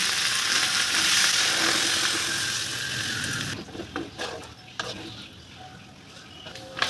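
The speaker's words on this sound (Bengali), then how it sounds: "এবার কড়ার মধ্যে নারকেল দুধ অ্যাড করবো" Coconut milk pours into a hot wok of simmering vegetables, a loud broad sizzle and bubbling for several seconds that then drops away, leaving quieter scattered clinks and stirring clatter.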